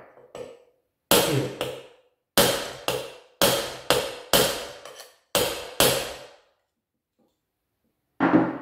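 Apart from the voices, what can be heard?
hammer tapping on adjustment tool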